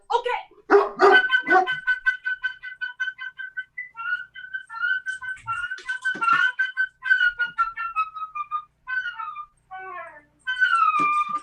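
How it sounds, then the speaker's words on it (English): A Great Dane barks and gives drawn-out, whining howls in close, loud bursts with short pauses between them, mixed with a person's voice. "This right here is Jen. She's my Great Dane, and she's very much ready to go"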